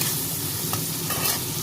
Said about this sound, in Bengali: চিংড়িগুলো ভাজা হয়ে গেছে, লাল লাল করে ভেজে নিতে হবে